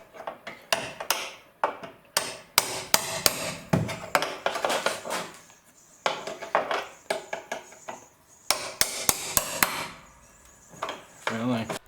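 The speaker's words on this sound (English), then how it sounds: "So we'll do this a little bit more with the hammer and chisel" Repeated sharp metallic strikes of a hammer on a chisel pounding apart a Mercury Sable rocker panel, irregular bursts of pounding with brief pauses, close and fairly loud.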